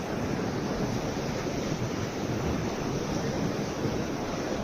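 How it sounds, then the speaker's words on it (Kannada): A flowing river beneath a small bridge on the trek to Dudhsagar falls, giving a loud, continuous rushing roar with no breaks and some wind buffeting the microphone. "ಹರಿಯುವ ನದಿ ಸಿಕ್ಕಿದೆ ನಮಗೆ."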